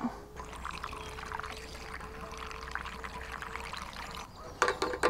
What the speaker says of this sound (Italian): Allora, facciamo sto pieno a sta moto zappa.